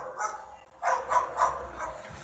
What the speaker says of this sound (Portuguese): Tem um cachorro aí latindo.